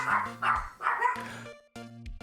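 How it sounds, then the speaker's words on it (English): Several household dogs bark excitedly indoors in short bursts, close and fairly loud, reacting to a garage door as someone arrives home; a brief pause falls before a final pair of barks. "there are my dogs"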